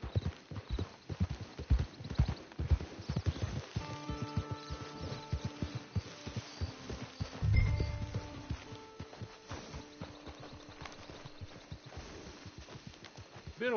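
Steady clip-clop of horse hooves on hard ground in Red Dead Redemption 2 continues throughout, with a short snort or whinny midway and faint talk underneath.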